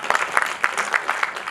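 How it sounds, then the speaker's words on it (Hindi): Audience applause at a Hindi poetry recital (kavi sammelan) at a university, a short burst of scattered clapping with uneven pulses, moderately near and without talk. "एक बार ताली बजाकर मुझे ये बता दीजिए"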